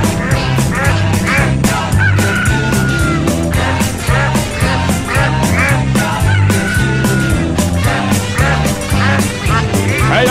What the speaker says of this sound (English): Let's all quack together.